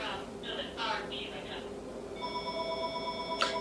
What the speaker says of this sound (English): So we're gonna ignore that phone call.